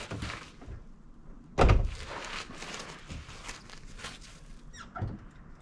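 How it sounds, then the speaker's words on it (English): A truck door thumps shut once with a heavy, close impact, surrounded by light shuffling and small clicks from someone moving around the vehicle. "I'll shut the door."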